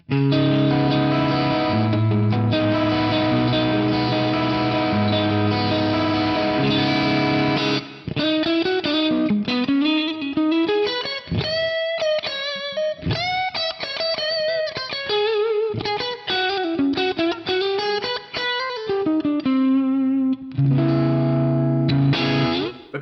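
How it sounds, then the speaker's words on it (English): Electric guitar drenched in lush reverb from an impulse response of a PCM70 reverb unit, sustained chords giving way to a melodic lead with bends, long tails washing out behind each phrase. "it's one of my favorite reverbs in the PCM70"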